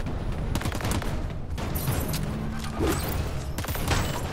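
Muffled, suppressed-sounding plasma rifle fire from the video game Crackdown 3, heard as a steady run of rapid shots with some heavier thuds over a continuous game background.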